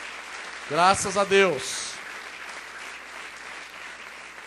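A church congregation applauds in a steady, distant wash of clapping. A voice briefly speaks over it near the start.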